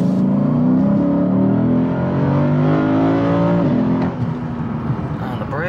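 A loud V8 engine in a Lexus IS500 F-Sport winds up steadily through the revs to just over 7,000 RPM with rising harmonic whine, then drops sharply as it lifts off near the top.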